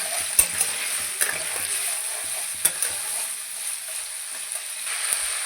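Cauliflower and carrots fry in oil and ghee in a pan, giving off a steady bright sizzle. A few sharp clicks from stirring break it up, and no one speaks.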